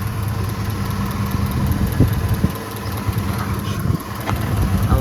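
A 2004 Ford F-150 with a no-power fault idles close by, a steady low engine hum with faint ticking and a few soft knocks, and no one talking.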